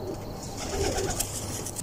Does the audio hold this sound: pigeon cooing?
yes